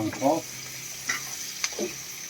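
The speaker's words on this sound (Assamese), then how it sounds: "মাংসটো পূৰা ফ্ৰাই কৰি আছোঁ।" Pork sizzling in a pan with a steady hiss, as a spatula scrapes and stirs it in a few distinct strokes, close and fairly loud.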